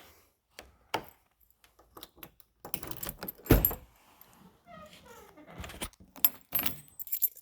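Keys jangling and clicking in hand while unlocking the trunk of a 1978 Lincoln Continental Mark V Diamond Jubilee, a close sequence of metallic rattles, taps and a latch thunk.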